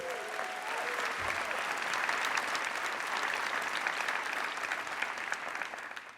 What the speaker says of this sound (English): Let's give them a big round of applause and thank you.